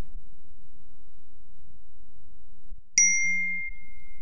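A single short notification ding marks an incoming text message: one clear bright chime with a ringing tail, followed by a brief low buzz, in otherwise near-silent room tone.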